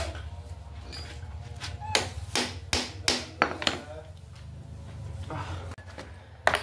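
A manual impact wrench is struck several times with sharp metallic whacks to loosen a screw on a Yamaha L2 motorcycle. The blows come in an irregular cluster, loud and close, over a steady low engine-like hum.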